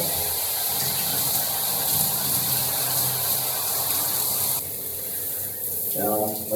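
Running water rinsing washing product out of starter locks, a steady close spray and splash that softens partway through, followed by a brief gurgling burst near the end.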